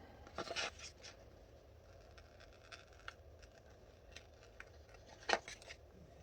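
Scissors cutting paper for a monthly planner page give a handful of faint, crisp snips and rustles at irregular intervals, close but quiet, with no talk.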